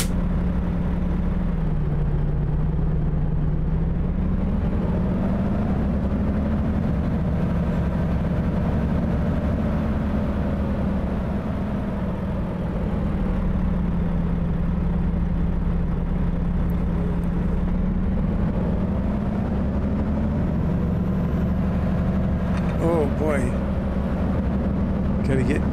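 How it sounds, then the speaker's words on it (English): Mack Anthem Black Edition truck engine in American Truck Simulator, a steady low drone held at one level throughout, quiet and smooth with only slight shifts in pitch. "The sound of this engine, or lack of sound. It's very quiet."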